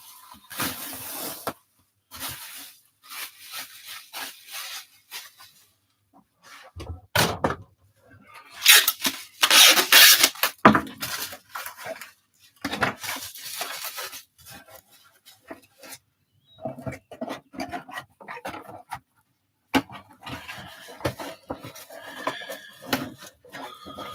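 Packing material crinkles and rustles in bursts as an item is pre-wrapped for shipping, with louder scrunching in the middle and brief pauses between handling sounds.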